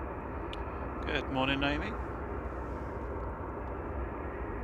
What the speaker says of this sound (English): Next one on short final. is the Qatar Flight 21 from Doha, 787-9 Dreamliner A7BHU.